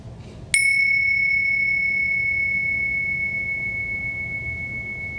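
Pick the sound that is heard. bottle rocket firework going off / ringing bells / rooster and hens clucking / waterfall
ringing bells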